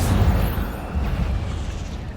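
Fiery Incendio spell cast in the Hogwarts Legacy video game, a dense low rumbling whoosh with a sharp burst at the start, sustained and loud for about two seconds with no talking.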